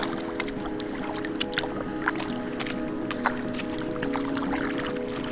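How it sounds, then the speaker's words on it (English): Canoe paddling on a calm lake on a mild morning, soft repeated paddle splashes and drips at an irregular rhythm over a low steady hum, close and moderately quiet. "Now they're starting to paddle kind of hard"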